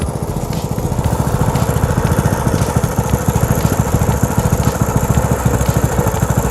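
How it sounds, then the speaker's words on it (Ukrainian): A Loncin small petrol engine running right after starting, a steady rapid chugging putter, loud and close, with no talk over it. "Ланцін нас завівся з другого разу."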